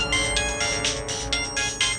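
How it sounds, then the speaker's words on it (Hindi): A phone ringtone chimes in a repeating melodic pattern of bright pulses, loud and close, playing alone with no talk over it. "किसका फोन है साजिद ने?"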